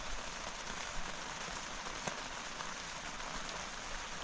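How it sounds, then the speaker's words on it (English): Steady rain patters across a winter campsite at night during a storm advisory, a dense, even hiss of drops on surfaces with occasional louder taps close by, no voices. "Well, we have rain"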